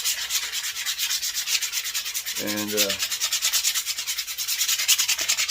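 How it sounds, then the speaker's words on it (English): Rhythmic rasping of sandpaper rubbing back and forth on a wooden hammer handle, steady strokes close up, with a short voice mid-way. "So just some more sanding"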